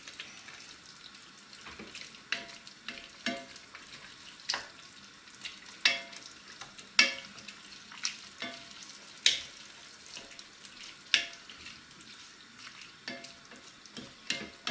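A spoon stirs meat and spices in a pot over low heat, giving a soft continuous sizzle punctuated by regular scraping and knocking strokes roughly every second, fairly faint and without talk.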